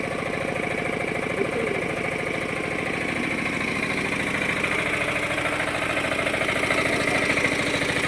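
A vehicle engine idles steadily and loudly up close, a continuous rumbling drone with a faint knocking texture that holds unchanged throughout, with no voices over it.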